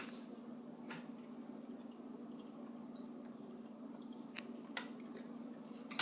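Scissors snipping yarn after a crochet slip stitch in a quiet room, a few faint, sharp clicks over a low hum.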